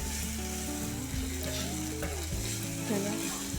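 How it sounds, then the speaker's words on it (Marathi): Sprouted moth beans fry in a pan with onion and tomato, a steady close sizzle with stirring scrapes throughout. "आता आपण त्यात मटकीची भाजी टाकूया आणि मस्त दोन मिनटासाठी होऊ देऊ"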